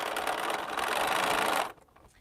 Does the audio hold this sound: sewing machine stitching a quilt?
yes